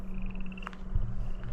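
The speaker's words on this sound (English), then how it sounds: "Nothing yet besides the frogs you can hear" Frogs croak close by along the Snake River, a low steady croaking chorus under a constant hum, with a brief higher call partway through.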